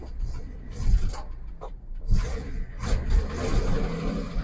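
An old truck engine with a carburetor fault, long idle in a barn, runs roughly nearby and surges in uneven revs, rising and falling over a few seconds with a faint voice in the background.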